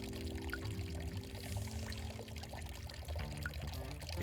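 River water flows in a video game, a steady rushing and splashing wash with a low tonal hum underneath, even and moderately close, no voices.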